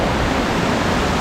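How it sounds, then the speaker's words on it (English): Rushing water from a waterfall swollen by heavy rain in the Scottish countryside near Loch Lomond and Galloway, a loud, dense, unbroken roar close by with no voices. "it just has a similar feel in the rushing water, especially after heavy rain"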